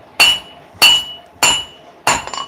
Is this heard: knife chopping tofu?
no